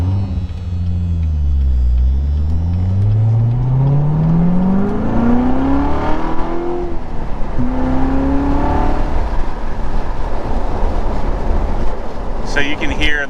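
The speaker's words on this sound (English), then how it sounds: "the car sounds super restricted with the stock exhaust setup" A 2018 Chevrolet Corvette C7 Z06 Carbon 65 on its stock exhaust revs up and falls back several times, its engine note sweeping up and down under steady cabin drone while someone talks over it.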